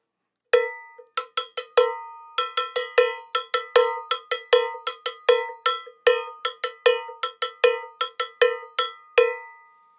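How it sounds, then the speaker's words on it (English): A handheld chrome bongo bell, a cowbell of the kind a salsa bongo player uses, struck in a quick rhythmic pattern of bright, slightly ringing clanks, close and clear with no other sound. "This one is a bongo bell, and it's a handheld bell."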